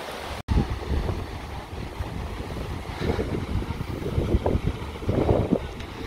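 Wind and surf at the rocky beach of Caló del Moro on Majorca, a steady broadband rush of waves and gusts buffeting the microphone, with no talk over it.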